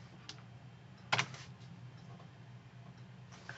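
Keys tapped on a computer keyboard while entering a command in a Windows command prompt: a few light, close clicks, with one brief cluster of keystrokes standing out against a quiet background.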